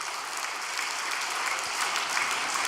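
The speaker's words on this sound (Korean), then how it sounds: "감사의 박수 한번 올려드리겠습니다" A crowd at a church vigil gathering gives sustained, even applause of thanks, with many hands clapping continuously at a moderate level in an indoor hall and no talking over it.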